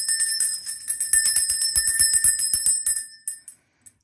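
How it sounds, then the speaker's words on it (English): A bell rung repeatedly in quick succession, bright sustained ringing tones with a rapid run of strikes before fading out near the end, loud and close. "let's ring this bell real quick"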